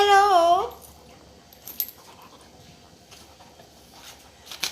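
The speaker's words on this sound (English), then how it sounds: "This is my puppy." A puppy lets out a high, wavering whimper at the start, loud and close, followed by quiet rustling and a few faint clinks.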